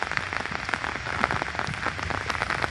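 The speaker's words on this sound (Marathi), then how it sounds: "समोरून मंडळी आहे ना जोरदार पाऊस येतोय बघा." Heavy evening rain pours over a hillside village in Konkan, Ratnagiri, a dense, steady hiss of drops drumming on surfaces close by, with no voices.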